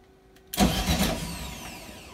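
A 1974 VW Super Beetle starter cranks the engine in one loud burst after a stretch of near quiet, a sudden mechanical whir that carries on and fades slowly with no talking over it.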